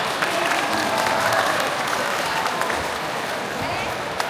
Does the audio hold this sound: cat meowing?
no